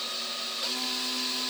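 Brushless hand drill run at its lowest speed, giving a steady close whir with a thin high tone and a slight rise partway, with no talk.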